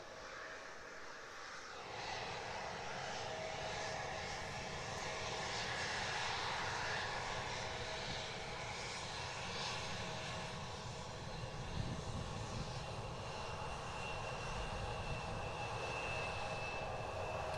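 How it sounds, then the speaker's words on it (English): A Jet2 airliner takes off at Manchester Airport, its engines a steady, broad roar heard from some distance that swells slightly and holds through the whole stretch with no one talking. "Jet 2 rotating off as well."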